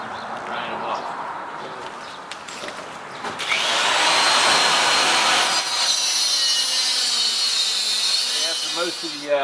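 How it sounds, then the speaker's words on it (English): A die grinder cutting off masonry anchors in a brick wall, starting as lower rough grinding then rising to a loud, steady high-pitched whine that holds to the end, with a voice talking faintly under it. "So you take a die grinder and grind them off."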